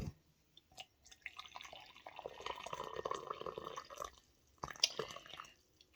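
Water is poured into a mug while making a turmeric, ginger, cinnamon and black pepper drink: a faint, close, splashy trickle that swells for a few seconds, stops, then resumes briefly with a clink.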